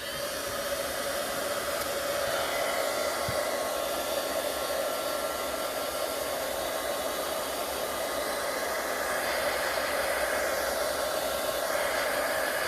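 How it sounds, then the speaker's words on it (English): A crafting heat tool blows hot air over alcohol ink, producing a loud, steady, close whooshing roar with an even hum that holds unbroken for the whole stretch. "is to take my heat tool"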